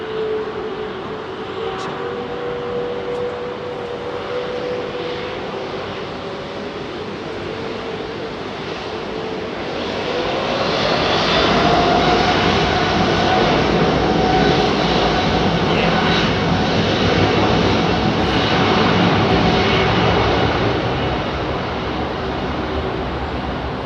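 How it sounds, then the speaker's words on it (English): A freighter aircraft landing on runway 27R at London Heathrow, a broad jet-engine roar that swells and grows louder midway, sustained and close, with faint wind in the background. "Freighter inbound."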